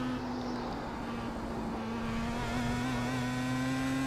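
Star Mazda race car engine at speed around Mount Panorama, Bathurst, in the iRacing sim, holding a steady sustained drone with a rising pitch, close and continuous throughout.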